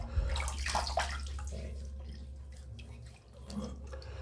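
A Rockwell 6S safety razor being rinsed under running tap water, a steady watery rush with brief splashes, fairly close and loud, fading slightly near the end.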